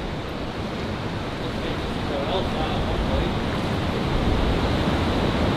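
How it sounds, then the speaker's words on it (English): Shallow water sloshing and splashing around steady steps through an underground tunnel beneath Manchester, a continuous broadband wash that swells slightly louder toward the end, with no voices present. "I've got some water to go through again. It's not too bad, not too deep."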